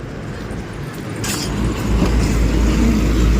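Car on a road trip to Manali in the mountains, a steady close engine and road rumble that grows louder as the vehicle gets moving, with no talk.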